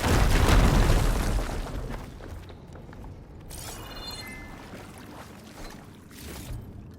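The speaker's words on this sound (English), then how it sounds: "Should be able to blow up that fire gleam." A fire gleam blows up in Horizon Forbidden West on PS5, a heavy rumbling blast at the very start that fades into debris and a hollow cave ambience with faint crackles.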